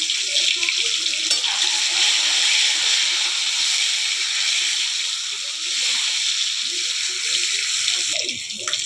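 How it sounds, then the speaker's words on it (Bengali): Eggs rubbed with salt and turmeric fry in oil with a constant close hiss and sizzle, and faint speech comes in briefly near the end. "ডিমটা ভেজে নেব।"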